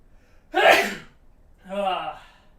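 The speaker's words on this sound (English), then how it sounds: "I had to sneeze though." A single sharp sneeze bursts out close by, followed moments later by a second shorter sneeze-like exhale, alone in a quiet room during an arcade machine restoration.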